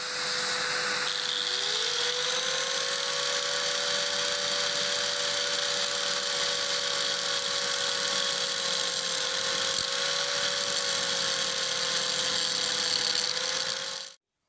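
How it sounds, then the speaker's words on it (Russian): A power drill whirs steadily at medium speed while an angle grinder hums against the spinning workpiece, shaping it into a cone, a continuous close mechanical whine that cuts off abruptly. "включаю ее на средние обороты и начинаю с помощью болгарки обтачивать заготовку"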